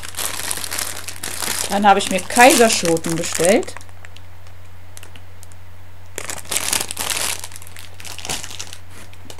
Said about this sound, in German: Ziehen wir mal die Tüte ein bisschen näher ran.